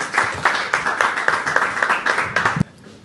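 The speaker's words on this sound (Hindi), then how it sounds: "जोरदार तालियों से स्वागत कीजिए" An audience at a Hindi poetry recital clapping to welcome the poet, a close, lively burst of applause that stops abruptly near the end.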